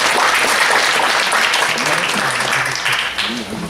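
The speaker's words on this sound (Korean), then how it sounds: "발표해 주신 손정군 이사님께 박수 한번 부탁드리겠습니다" Audience applause following a talk at a mobile security conference, a steady wash of clapping throughout with a voice briefly audible over it near the end.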